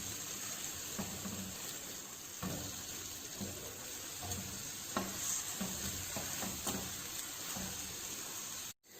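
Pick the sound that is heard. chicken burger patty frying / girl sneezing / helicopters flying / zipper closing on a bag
chicken burger patty frying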